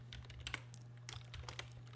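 Soft, quick keystrokes on a computer keyboard tap out a short burst of typing, faint and close, with no voices.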